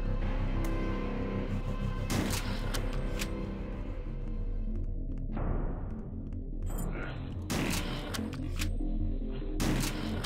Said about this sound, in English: Super shotgun. Nice.